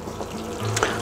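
Fried potatoes and onions draining from olive oil make a brief wet splash and trickle with a faint sizzle, close and short.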